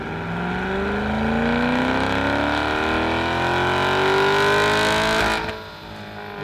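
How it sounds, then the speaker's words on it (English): Chevrolet C8 Corvette fitted with Paragon equal-length headers running on a dyno, the engine revving loudly in one long rising pull before abruptly dropping off to a lower idle. "Today we're in the dyno cell and we're testing our C8 equal length headers"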